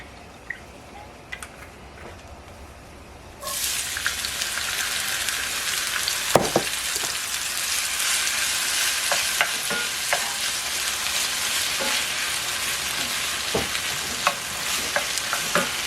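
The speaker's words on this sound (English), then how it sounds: "I'm going to cook this sofrito down for about 4 or 5 minutes so it's nice and cooked." Sofrito sautéing in olive oil in a shallow pan for vegan chicken soup: a steady, broad sizzle bursts in after a quiet start and holds loudly, with occasional stirring clicks and pops.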